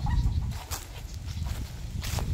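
Chicken clucking outdoors in a rural spot, a few short, soft clucks sitting over a steady low rumble of background noise with no voices.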